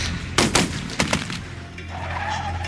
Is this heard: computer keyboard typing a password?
no